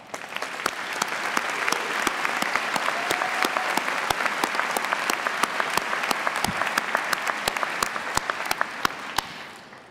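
A large graduation-ceremony crowd applauds steadily for graduates' families, a broad wash of clapping with sharp nearby claps standing out, moderately loud and sustained throughout with no talking.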